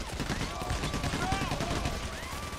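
Rapid gunfire crackles in Payday: The Heist, a dense continuous burst of shots layered over a busy game soundscape.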